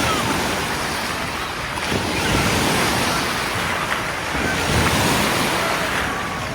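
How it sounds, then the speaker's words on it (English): Wave pool at Disney's Blizzard Beach water park, a continuous broad wash of surf and churning water with light wind noise, steady and fairly loud throughout, no voices. "Here is the wave pool."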